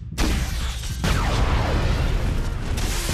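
Loud action-movie explosions, a sudden heavy boom followed by a second blast and sustained rumbling debris and roar, filling the whole clip with no talking.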